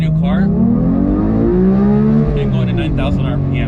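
Manual car downshifting and revving high, the engine note climbing and sweeping through rising and falling pitches over several seconds, loud and close, with a few brief interior clicks near the end.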